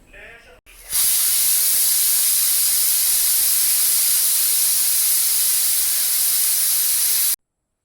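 A pressure cooker loaded with salted, cleaned sweet tubers vents steam in a loud, continuous close hiss. The hiss starts abruptly after a brief quieter moment, holds for several seconds, then cuts off.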